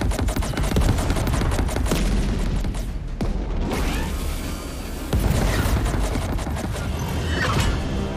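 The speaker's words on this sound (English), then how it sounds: "All stations, focus your fire in sector 475." Dense gunfire barrage from a space-combat battle in the video game Chorus, loud rapid bursts with booms and mechanical clatter filling the whole stretch, without speech.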